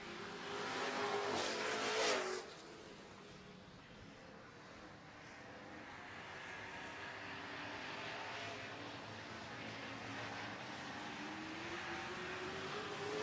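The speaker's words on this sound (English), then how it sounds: "Dave Buffy, former champion, driving the Dynasty number 2 that's behind him on the racetrack right now." Super Trucks race trucks roaring around a racetrack during a feature race, a steady engine drone with one truck passing loudly close by before the sound settles into a continuous distant hum.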